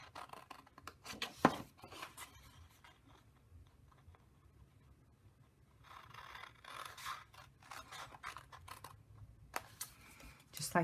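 Scissors snipping the corners off a scored paper card, several quiet close crisp cuts and scrapes scattered among soft handling noises.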